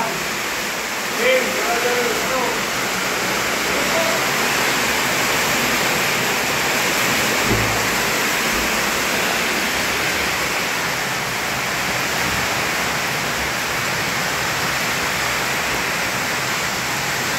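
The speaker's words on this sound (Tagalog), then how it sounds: "Lakas ang ulan." Heavy rain pours down steadily, a dense, roaring wash of water around a house that stays loud and unbroken throughout, with a brief thump early on.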